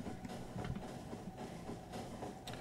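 A moving train in the video game Factorio rolls along with a steady low rumble and faint rhythmic rail clatter, continuous and fairly quiet throughout.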